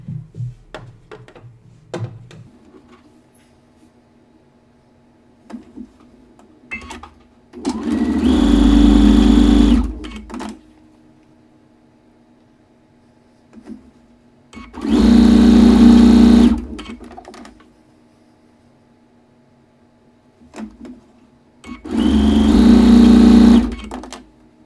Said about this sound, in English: we're just gonna go ahead and sew together all of our blades and bars